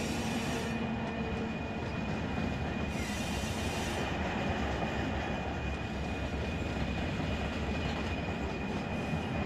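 A freight train in the Run 8 Train Simulator video game rolls along at speed, with a loud, constant rumble of wheels on rails and a thin high whine from the wheels.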